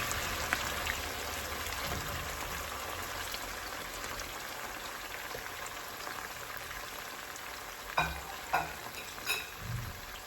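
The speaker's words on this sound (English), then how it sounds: "I'm gonna fry up my scallion, onion, thyme, peppers, garlic, all the good stuff guys" Scallion, onion, thyme, peppers and garlic frying in a pan for a Jamaican breakfast, a steady dense crackling sizzle up close, ending with a few louder clatters of stirring.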